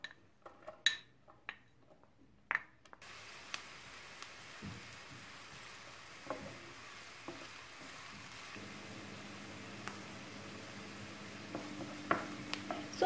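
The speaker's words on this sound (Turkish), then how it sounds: "Bir tane küçük küçük doğranmış kuru soğan ekleyip kavuralım." Steady sizzle of onions frying in hot oil, a continuous crackling hiss with a few sharp clinks near the start.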